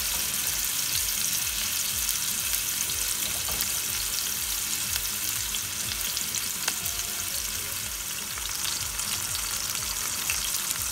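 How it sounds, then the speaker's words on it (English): Thick fish pieces sizzling in a hot pan, a dense continuous hiss and crackle that stays loud and steady throughout, close up with no talking. "Take the thicker pieces, fry them really nice."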